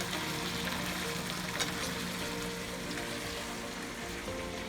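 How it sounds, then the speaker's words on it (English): Mushrooms sautéing in a hot pan, a steady soft sizzle and crackle heard close up without any talk. "let's get the mushrooms in there. Okay. We're just going to let this saute a little bit"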